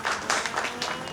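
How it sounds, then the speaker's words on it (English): Audience at a speedrun event for Grand Theft Auto: Vice City breaks into applause, a dense, steady patter of many hands clapping, moderately distant and filling the room. "You don't know what they're clapping for."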